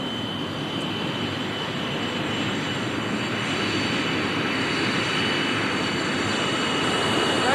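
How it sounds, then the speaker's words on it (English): Steady, loud roar of a BAe 146 Whisper Jet airliner landing at Queenstown airport, continuous and broadband with a faint high whine, building slightly toward the end. "The Whisper jet touched down in Queenstown on the weekend"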